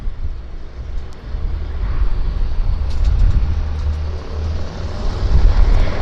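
An aircraft engine runs up at Vancouver airport, a steady broad rumble and propeller drone that slowly swells louder, heard from some distance outdoors with no talking.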